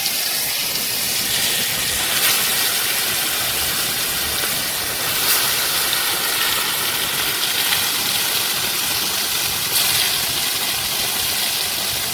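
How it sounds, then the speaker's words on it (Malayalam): Fish pieces frying in hot oil for a Kerala fish curry, a loud, steady hiss and crackle that runs unbroken throughout with no talking. "എണ്ണയൊക്കെ ചൂടായിട്ട് വന്നിട്ടുണ്ട് അതിലേക്ക് നമുക്ക് മീൻ ഇട്ട് കൊടുക്കാം"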